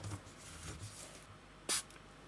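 A short, sharp spray hits small UV resin pieces once, a quick close hiss standing out against a quiet room with no talk.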